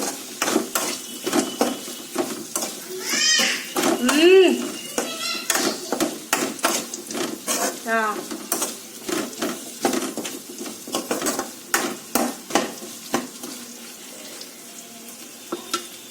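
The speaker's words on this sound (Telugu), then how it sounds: "ములక్కాయలు వేసుకొని కొంచెం సేపు ఇట్లా తిప్పుకోవాలన్నమాట" Cut drumsticks stirred and frying in a pan for a drumstick and tomato curry, a steady sizzle with scraping stirs and clinks throughout, voice talking over it.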